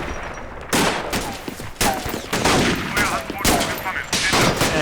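Rapid bursts of German small arms fire crackle in a tactical battle from Combat Mission: Battle for Normandy, with dense overlapping volleys and shots sounding loud and continuous throughout, with no speech.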